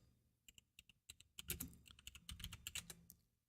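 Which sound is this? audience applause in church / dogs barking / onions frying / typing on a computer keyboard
typing on a computer keyboard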